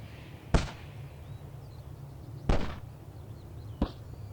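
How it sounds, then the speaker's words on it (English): Moss spore capsules bursting on open moorland: three sharp, isolated pops spaced a second or two apart, each a brief crisp crack, over a quiet low background hum. "The sound of small explosions cuts through the silence of the moors."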